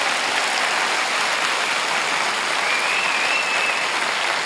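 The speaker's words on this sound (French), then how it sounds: "Bien sûr, vous pouvez vous applaudir." Crowd at a French stand-up comedy show applauds, a dense, even wash of clapping that sounds almost like rain, steady and sustained throughout, with a faint whistle rising briefly in the middle.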